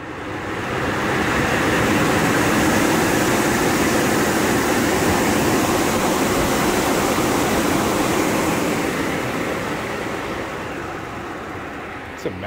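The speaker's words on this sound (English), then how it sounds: "It's a massive blower" A massive blower driven by a 230V ECM motor on a 120VAC voltage-doubler supply makes a loud, broad rushing roar that builds quickly and holds steady, then eases slightly near the end.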